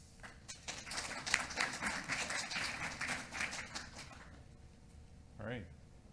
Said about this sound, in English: please help me by giving them a warm round of applause.